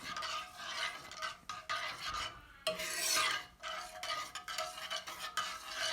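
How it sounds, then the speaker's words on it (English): A spoon scrapes and swirls around a pot of General Tso's tofu sauce in uneven strokes, close up, with gritty rubbing sounds and brief pauses. "I'm going to stir it up"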